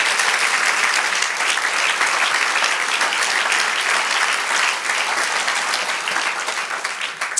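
Church congregation applauding together, a dense, steady wash of clapping that holds loud throughout and thins slightly at the end.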